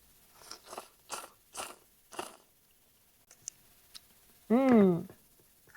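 Crunchy bites and chewing of cup ramen noodles, several close mouth sounds in a row, followed by a short voiced murmur of approval.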